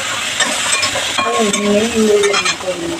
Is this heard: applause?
no